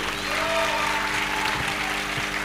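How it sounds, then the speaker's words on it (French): An audience applauds, a burst of clapping from a room full of people at a festival panel on sport. "Est-ce qu'on peut applaudir?"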